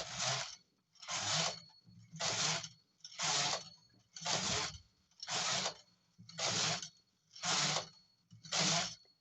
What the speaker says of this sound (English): Okay, and knit all the way up to 10 rows.